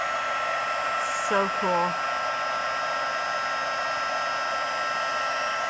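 A handheld heat tool blows with a steady, loud whoosh while melting embossing powder on a handmade card; a brief spoken remark is heard over the continuous blowing.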